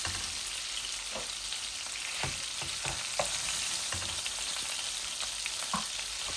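Tilapia pieces sizzle and fry steadily in oil in a pan, a constant crackling hiss with occasional clinks and stirring scrapes, no talking.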